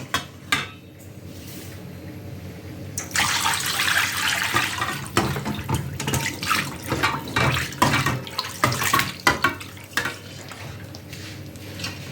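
Marinade splashing as it is drained off marinated crucian carp, a steady watery pour with clinks of a dish or pot and scattered splashes, close and loud.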